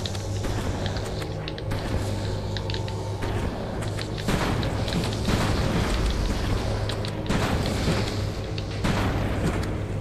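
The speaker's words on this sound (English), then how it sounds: "See, that explosion's so cool." In the video game Halo: Combat Evolved, an explosion booms out amid busy combat noise, a broad rumbling burst with sharp onsets layered over a continuous loud game soundscape.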